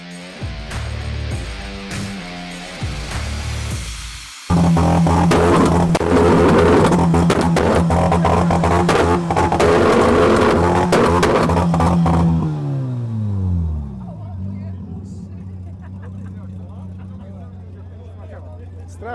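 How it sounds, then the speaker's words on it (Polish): A Polish Fiat 126p, around fifty years old, runs with a loud, rough exhaust, first idling unevenly, then revving hard and clattering for several seconds before dropping back to a quieter, lumpy idle, heard up close. "czuć na całym ciele wstrząsy, jakie generuje ten wydech i te eksplozje"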